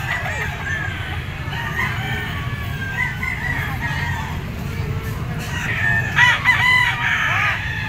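A white-legged White Kelso gamefowl stag at a market crows and clucks. The calls are close but partly under someone talking steadily, with a louder burst of crowing near the end.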